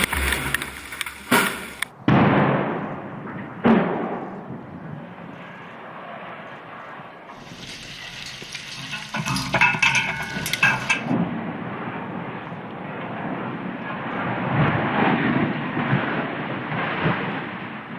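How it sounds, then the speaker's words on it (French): A sharp demolition blast, then a long rumbling roar as the Belgacom tower in Vedrin collapses, debris rolling on for many seconds, with crackling bursts midway; distant and heavy. "c'est maintenant l'explosion."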